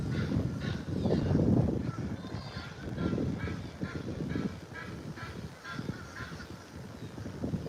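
Birds call and honk in a noisy cluster nearby while feeding on dog food put outside, goose-like squawks overlapping against wind and outdoor rumble.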